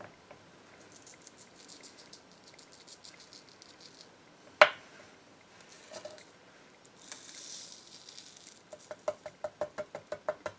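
Embossing powder is poured generously onto stamped paper, producing a soft granular patter with a sharp knock partway through, then a quick run of light rhythmic taps, faint and close.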